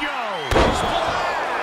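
A wrestler crashes down with a splash in WWE 2K23 during a Charlotte Flair versus Rhea Ripley SmackDown Women's Championship match, one heavy slam cutting through a steady crowd roar.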